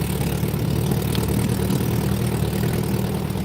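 A small engine that sat unused for about ten years, with varnish in its carburetor, idles steadily after starting, a continuous low rumble throughout, close and fairly loud, with no talking.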